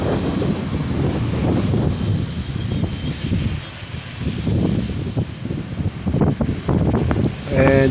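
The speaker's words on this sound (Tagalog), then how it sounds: "Sobrang lakas guys, sobrang lakas ng hangin." Strong gusting typhoon wind roaring through trees with rustling leaves, surging and easing in waves, heavy buffeting on the microphone, in Pasay or Parañaque, Philippines.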